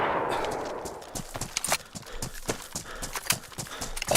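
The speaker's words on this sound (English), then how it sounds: "I heard the footsteps and I thought it was a zombie." Footsteps in a video game, from the survival game Deer Isle, beat out in an irregular run of sharp, close thuds with a clopping quality.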